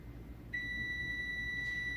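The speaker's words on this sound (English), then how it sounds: "Looks like our timer went off." A kitchen oven timer sounds a steady, continuous electronic beep that starts abruptly and holds at moderate volume over low background hum.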